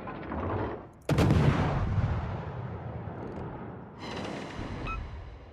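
Naval gunfire in World of Warships: a sharp, loud cannon blast followed by a rumbling decay, then a second softer boom, with no talk over it.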